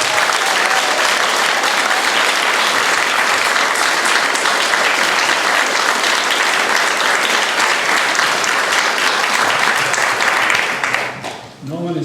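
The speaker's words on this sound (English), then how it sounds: "give her a round of applause" Loud, dense applause from the crowd at a traditional Memorial Day observance in Dummerston, continuous and even for most of the clip before tapering off as a voice begins at the end.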